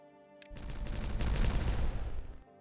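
Explosives detonating in the game Timberborn: a dense burst of crackling blasts begins abruptly and rolls on for about two seconds as a loud, heavy rumble before cutting off, with no talk over it.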